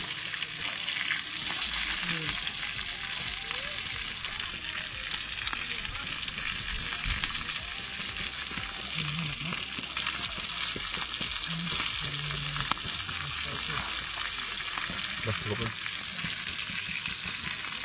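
Chicken thighs frying in a pan, a steady dense sizzle and crackle running throughout with occasional low stirring knocks, close and continuous.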